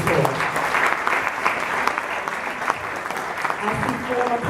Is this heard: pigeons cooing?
no